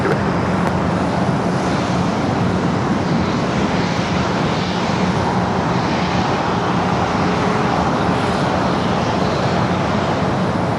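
SAS and Iberia airliners taxiing to their gates at Los Angeles International, a loud, constant jet engine roar and hiss filling the whole span without breaks, mixed with distant roadway traffic and no voices.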